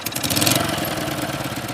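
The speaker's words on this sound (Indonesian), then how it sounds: "Mati mulu salah bawa motor kayak gitu." A motorcycle engine runs close and loud in a steady, rough mid-pitched chug for under two seconds, with no talking over it.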